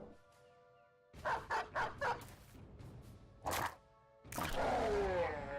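A dog in the video game Battle Brothers barks a quick run of four yaps, then one more, then lets out a longer growling bark. The sounds are clear and close, with no voices.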